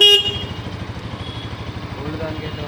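A 2024 NS200 motorcycle's horn gives a short, bright toot at the very start, then the engine idles with a steady, low throbbing pulse.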